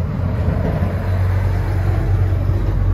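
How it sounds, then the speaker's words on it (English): Road traffic passing by outdoors beside a parked Citroen C4, a steady loud rumble of engines and tyres with a low drone and no speech. "apologies about the traffic"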